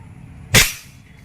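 Single sharp shot from an old Pakistani Aimeo Model 65 air gun fired at bottle targets outdoors, a crisp crack with a short fading tail over low background noise.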